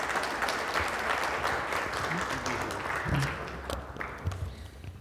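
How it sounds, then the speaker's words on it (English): Audience applause for a speaker at a business event on B2B ecosystems, steady dense clapping throughout the five seconds that thins slightly near the end, with a few voices and cheers mixed in. "A big round of applause for Deepika"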